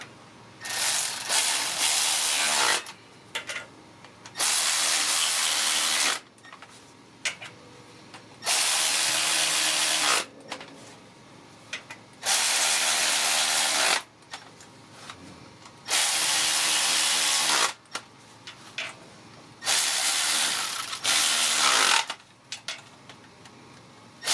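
Ratchet tightening exhaust manifold bolts on a 1996 Honda Civic, six loud bursts of rapid clicking of a few seconds each, separated by short quiet pauses, close up with no speech.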